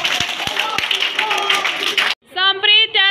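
Children clapping in a 2nd-class classroom, a burst of scattered group applause after a few sharp single claps, followed by a voice speaking.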